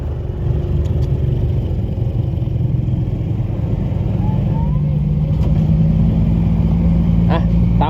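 A six-wheel truck rumbles toward a soil pit, its diesel engine a loud, steady low drone close by, with a faint clatter near the end.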